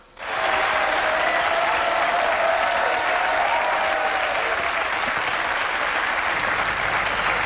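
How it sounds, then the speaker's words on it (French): A studio audience at a French talk show bursts into loud, dense applause for the two guests, starting abruptly and holding as a steady, full roar of clapping without letup. "je demande un tonnerre d'applaudissements pour nos 2 invités, Marie Gila et Grégory Gadebois"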